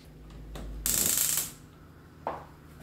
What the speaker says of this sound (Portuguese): Aí eu vou escorrer a água dele